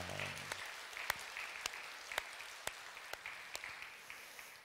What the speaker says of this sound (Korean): 한번 시온성가대 박수로 한번 격려해 주시기 바랍니다